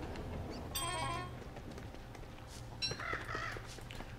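Crow-like cawing calls in the game Don't Starve, a couple of short harsh bursts over a steady low hum and background music.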